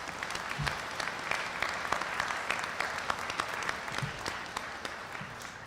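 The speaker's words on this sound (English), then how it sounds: "So let's please give a great hand of applause for the WSDOT workers that have done this." A crowd at an outdoor ribbon-cutting ceremony for a new freeway section claps steadily, a moderate, fairly distant spatter of many hands sustained throughout.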